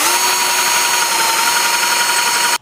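A power drill spins a drill bit steadily and loudly for the whole stretch, its motor whine unbroken until it cuts off abruptly at the very end, with no voices over it.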